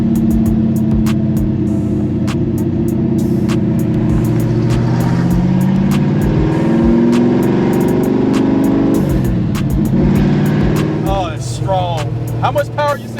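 A 1969 Road Runner with a 660 hp Mopar V8 roars loudly from inside the cabin, its engine note climbing as it accelerates, while occupants talk over the steady rumble.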